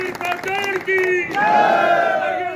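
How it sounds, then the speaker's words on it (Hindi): Crowd at a Congress party workers' rally in Jhajjar, Haryana, raising loud sustained chanting and cheering voices in unison, close and loud throughout. "जोरदार तालियों के साथ हम उनका स्वागत करते हैं"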